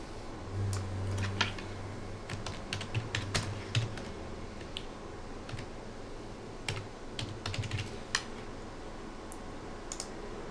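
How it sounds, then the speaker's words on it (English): Clicky keystrokes on a computer keyboard come in irregular bursts as someone types a name into a search bar, close and fairly quiet over a low steady hum. "Now we need to type this into the search bar here in order to find his card"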